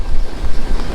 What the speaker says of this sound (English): very windy, seeing sustained 30-knot winds